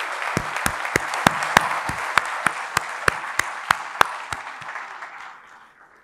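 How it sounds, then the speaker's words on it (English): An audience at an evening climate panel session applauds steadily, with broad clapping and a few sharp louder claps standing out, fading gradually toward the end. "please join me in applauding this wonderful panel for their fantastic contributions"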